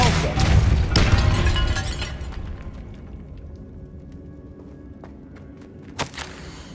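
Depulso force spell cast in Hogwarts Legacy beside a bone-strewn altar and sarcophagus, a loud broad blast that fades into a rumbling decay, followed by a small sharp crack near the end.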